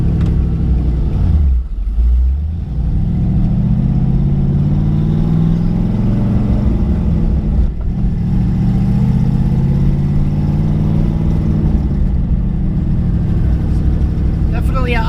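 Twin-turbo LS-swapped Nissan 350Z running with no radiator fan fitted, a steady low engine rumble that hangs at idle and swells with brief revs throughout, close and loud, with occasional voices underneath.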